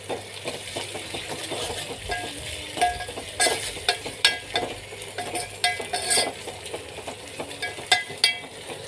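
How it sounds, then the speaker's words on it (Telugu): Ginger garlic paste fries in a pan under a steady sizzle, with repeated close scraping and tapping strokes as it is stirred. The stirring has an uneven rhythm and no one speaks. "అల్లం ఎల్లిగడ్డ పేస్ట్ అయితే వేస్తున్నా. మొత్తం వేగుతుంది."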